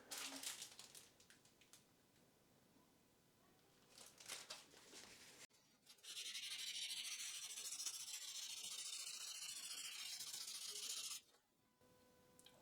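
Fine sanding with 3000 grit sandpaper on a metal lathe tailstock part, a steady soft rubbing stroke running for several seconds after quieter scraping, close and alone.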